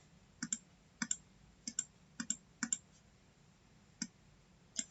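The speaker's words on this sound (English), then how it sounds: "I can either mix it, double clicking on the color picker" Computer mouse clicks in drawing software, including double clicks on a color picker, come as a series of sharp, close, quiet clicks, often in quick pairs, spread across the stretch with no talk.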